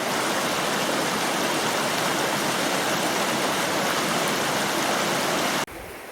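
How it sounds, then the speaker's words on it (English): Steady broadband rush of the River Tavy on Dartmoor, loud and close throughout, flowing water over rocks beside a walking path, cutting abruptly to a quieter, duller hiss near the end. "the rather nice sound of rushing water in my right ear from the River Tavy"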